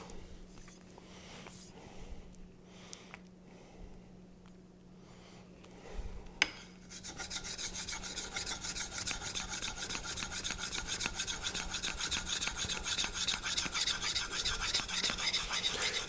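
A convex knife grinds on a 400-grit Naniwa diamond whetstone, beginning with quiet scattered scrapes and a clack, then settling into continuous rhythmic rasping strokes, close and fairly loud.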